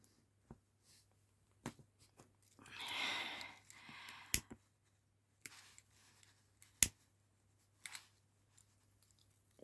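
Several crisp scissor snips spaced irregularly over a quiet background, with a soft rustle in the middle.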